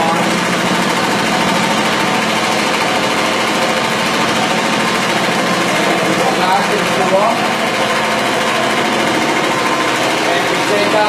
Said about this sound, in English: the agitation from the machine agitates the carpets upside down and beats out the grounded dirt